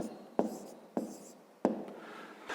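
Pen writing on paper during a fifth-grade maths exercise, three short scratchy strokes spaced apart, close and quiet.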